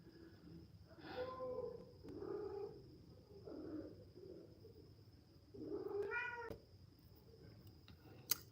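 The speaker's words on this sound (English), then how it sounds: "This cat is so needy." A needy house cat meows several times at intervals, drawn-out and fairly close but quiet, over a faint steady hum.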